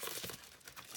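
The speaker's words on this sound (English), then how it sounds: "Sorry about the rustling" Faint crinkling and rustling of an envelope holding a craft ribbon pack, brief soft papery handling noises with no speech.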